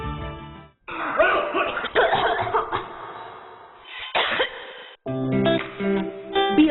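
Harsh coughing bursts sound close up in a cough medicine advertisement, a few separate fits between stretches of music with a sung or spoken voice.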